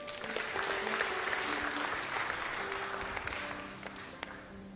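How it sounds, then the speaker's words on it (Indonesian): Applause from a church congregation during a sermon, a steady wash of many hands clapping at moderate distance, sustained for several seconds with faint voices mixed in. "Tepuk tangan."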